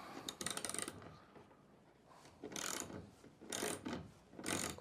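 A bolt tightened on a motor quick-connect mount, heard as quiet, close ratcheting clicks and metallic turning in short bursts separated by brief pauses.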